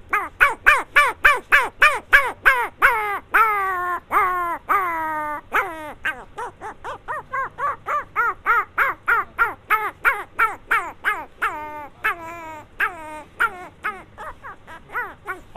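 A man imitates a tiny puppy with a long run of rapid, high yelps and whimpers, each short cry repeated in a steady rhythm, loud and close.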